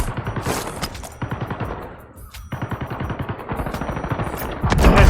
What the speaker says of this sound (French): Ah, il me tire dessus.